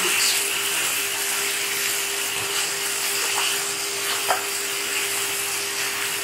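Green chillies fry in a pan for a pickle-spiced chilli dish, producing a constant close sizzle and hiss with a steady hum underneath and a few faint clinks.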